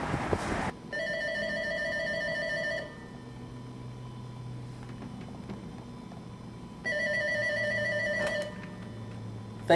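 Office telephone at a martial arts school ringing in two long electronic trill bursts separated by a pause, clear and steady against a quiet room hum.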